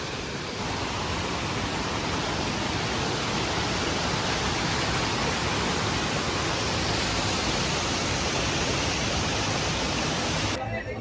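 Mantayupan Falls in Barili pours down in a continuous, loud, even roar of rushing water, with no break from start to finish.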